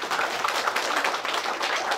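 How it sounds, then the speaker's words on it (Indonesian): Applause at a Christian wedding ceremony for Daniel and Dwi, right after a prayer: a dense, steady patter of many hands clapping together, fairly loud and close, with no break across the whole stretch. "Boleh tepuk tangan."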